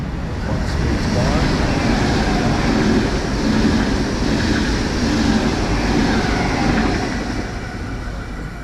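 A train speeds through the station at Visp, Switzerland, a loud, sustained roar of rushing wheels and air that holds for several seconds before easing off.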